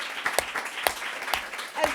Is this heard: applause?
yes